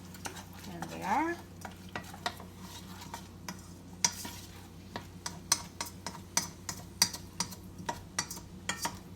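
Onions sauteing in a pan, stirred with a utensil, giving a soft steady sizzle under a run of sharp clicking taps from the spoon against the pan.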